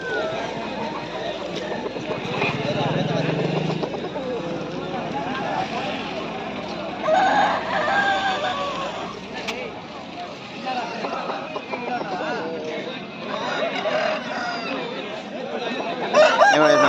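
Roosters crow repeatedly at a busy Sunday chicken market in Pileru, their calls rising over a steady crowd babble of nearby talking voices and clucking fowl.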